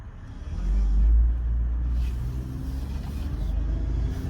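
A Kia Sedona minivan drives along with a steady low engine and road rumble, loudest early on, continuous and close from inside the cabin.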